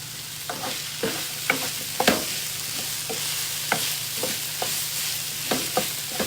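Guyanese-style chowmein stirred in a hot pan, a steady sizzle broken by repeated sharp scrapes and clanks of the utensil against the pan, close and without talk.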